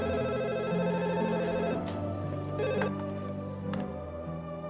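A telephone rings with a repeating electronic tone over soft background music, steady and fairly close, with no talking.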